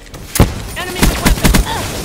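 Gunfire in Call of Duty Black Ops 3: a sharp single shot followed by a tight cluster of four quick bursts, loud and close, with a little faint game chatter between.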